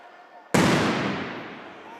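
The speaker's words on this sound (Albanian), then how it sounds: "E tani hidhen edhe fishek zjarre në fush dhe ndërpritet loja." A single sharp firework blast thrown onto the field at a sports match between Peja and Bashkimi bursts loudly, then rumbles and fades over a couple of seconds amid faint crowd noise.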